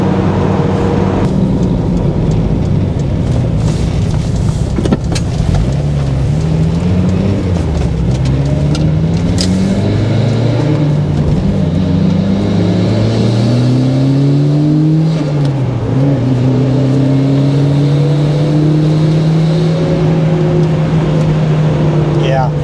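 Car engine accelerating hard under turbo boost, heard from inside the cabin: a loud drone whose pitch climbs through the gears with brief shift dips, steady and continuous, with occasional talk from the occupants.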